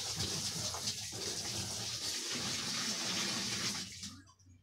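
Tap water running steadily into a washing machine during a leak test after replacing its gearbox, belt and drain valve, a close, continuous rushing flow that cuts off near the end.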